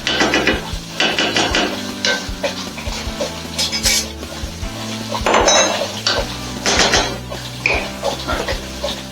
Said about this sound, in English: Going to give our sauce a little stir here.